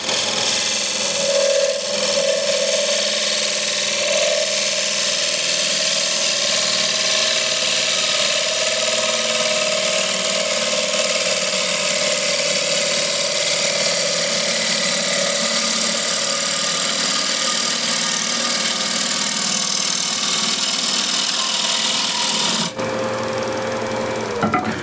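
A gouge makes a finishing cut on a hard wood bowl spinning on a lathe, giving a loud, steady whirring drone that runs almost unbroken for about twenty seconds and then cuts off near the end.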